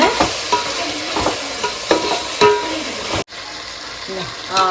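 Mutton with garam masala sautéing in a pan for biryani, giving a steady sizzle and fry broken by repeated stirring scrapes, close and fairly loud, with a brief cut near the end.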